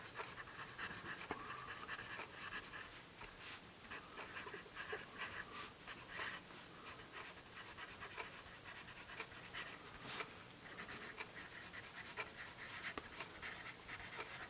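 Graphite scratching steadily across paper as a soft, large-core Musgrave Unigraph pencil writes, a continuous close, quiet rasp with small rhythmic strokes.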